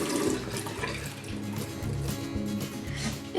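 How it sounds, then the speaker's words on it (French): Running tap water during an evening skincare routine as hands are rinsed, a steady close splashing and gurgling that lasts a few seconds with no one talking. "Je viens rincer mes mains."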